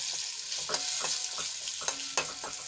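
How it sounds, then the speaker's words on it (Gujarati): Green chillies sauté in hot oil with mustard seeds and asafoetida, a steady close sizzle broken by several sharp clicks of a spoon scraping and tapping the pan. "અહીંયા મેં 2 લીલા મરચાંને કાપી લીધા હતા એ એડ કરી લઈશું અને સરસ રીતે થોડી વાર માટે તેલમાં આપણે સાંકળી લઈશું"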